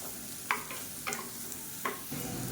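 Mashed raw banana frying in oil until crisp, a steady low sizzle punctuated by three or four sharp spatula scrapes against the pan, close and fairly quiet.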